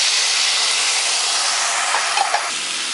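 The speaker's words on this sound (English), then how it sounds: "pour some water underneath just to kind of steam it" Water hisses and steams loudly in a hot pan under a lid while a Reuben sandwich's corned beef heats through, a steady broadband sizzle that fades slightly with a few faint clinks near the end.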